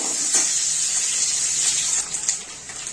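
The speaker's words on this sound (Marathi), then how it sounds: "तेल थोडस जास्त तापलेलं आहे आणि थोडस पाणी म्हणजे ओलं खोबरं असल्यामुळं सरसर करतंय" Wet grated coconut and ginger frying in very hot oil in a pan, a steady, bright hissing sizzle that crackles and fluctuates slightly, close and alone without talk.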